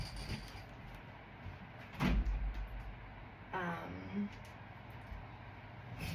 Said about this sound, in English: I'm also going to shut this squeaky door